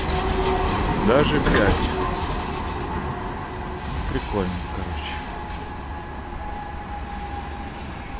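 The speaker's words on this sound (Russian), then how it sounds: "по ним ходят такие большие четырехвагонные трамваи" A large four-car tram rolls past on a city street in Istanbul, with a rumbling, clanking passage and brief wheel squeal, while someone talks over it.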